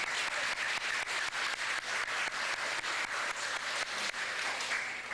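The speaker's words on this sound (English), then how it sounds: "Give them a round of applause." A Cub Scout pack's Blue and Gold banquet in Ste. Genevieve, Missouri, breaks into a steady round of applause: many hands clapping together, fairly close and sustained for several seconds, with no talking over it.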